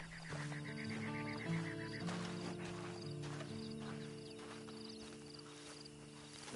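Horse in Red Dead Redemption 2 with steady hoofbeats and a brief whinny early on, set against a constant tonal game ambience with music-like drones, no talk.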